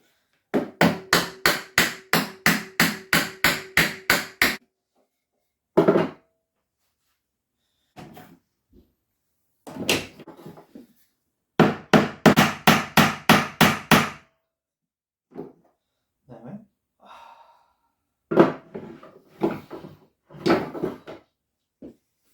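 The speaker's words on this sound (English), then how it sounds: "Once you get to a certain point, that's where the hammer comes in." Rapid, evenly spaced hammer blows drive a wooden dowel into a children's chair in two long runs, with scattered single knocks and quiet pauses between them.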